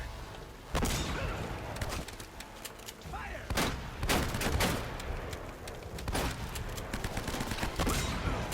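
Rapid laser gunfire in Uncharted: Drake's Fortune, a villain shooting at boxes: dense bursts of loud blasts and impacts repeating over several seconds, with thuds and crashes layered throughout.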